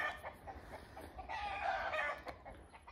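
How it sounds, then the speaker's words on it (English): Chickens in a New Zealand yard cluck and squawk in an agitated, continuous chatter, fairly close and moderately loud, with no talking over them. "I think I've pissed off the chickens."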